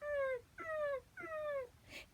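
A human voice imitates a dog whimpering, producing three drawn-out, nasal whines in a row, each slightly falling in pitch, followed by a brief breathy sound, close and fairly quiet.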